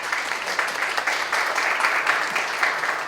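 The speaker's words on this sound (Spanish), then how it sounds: "El aplauso va dirigido, creo que, a todos los candidatos" Applause from a university audience at a Senate candidates' debate, a dense, steady burst of many hands clapping together, close and even throughout.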